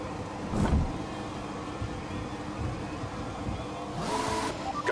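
Race car engine from a PS4 racing game at the Azerbaijan circuit, a steady mid-level drone with two brief louder bursts near the start and end, no voices.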